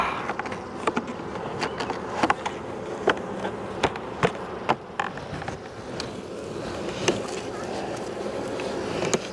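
Honey bees buzz around an open hive after a split, forming a continuous droning hum close by with scattered sharper clicks and knocks from handling.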